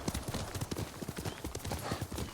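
A horse's hooves clip-clop in a quick, close, rhythmic gallop across the ground in the video game Ghost of Tsushima, loud and continuous throughout.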